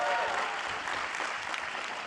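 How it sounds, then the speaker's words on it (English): A crowd at a League of Legends esports finals qualifier between C9 and TLAW applauds steadily, dense clapping and cheering filling the arena with no pauses. "round of applause for Berserker"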